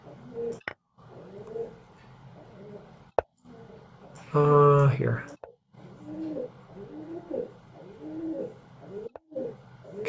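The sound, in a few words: bird cooing repetitively, likely a pigeon or dove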